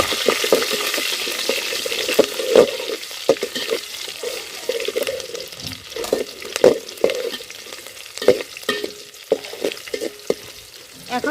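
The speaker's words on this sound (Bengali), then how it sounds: "কাঁচামরিচ, আদা কুচি দিয়ে দেব" Green chilli and chopped ginger frying in oil with tempered whole spices for vegetable pulao, a steady sizzle broken by repeated spoon stirs and scrapes against the pan.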